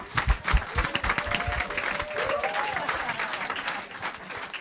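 A church congregation applauding during a French-language sermon: dense, continuous clapping from many people, close and lively, with faint voices mixed in.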